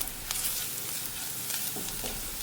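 Garam masala and pepper being stirred in a frying pan for an egg curry, a steady close scraping and soft sizzle with a few sharper spoon knocks against the pan, no talking.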